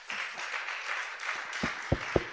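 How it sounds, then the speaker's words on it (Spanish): Church congregation applauding at a Sunday service, quiet and distant, with a few sharper close claps standing out near the end. "¿Por qué no le damos un fuerte aplauso al Señor?"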